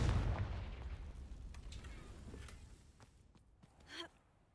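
Confringo spell explosion in Hogwarts Legacy, a loud fiery burst at the start that decays into a long fading rumble, followed by a few faint clicks and a soft whoosh near the end.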